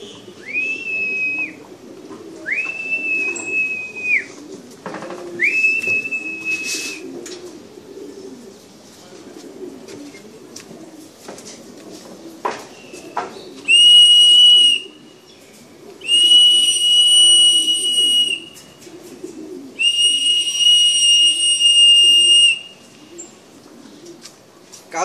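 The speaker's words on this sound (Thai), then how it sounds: "ถ้าจะฝึกนกนี่จะให้มันลงด้วยเสียงนกหวีดนี่" Several long, steady whistle blasts used to train pigeons, first short tonal calls then three sustained bursts, loud and close over a background of pigeons cooing.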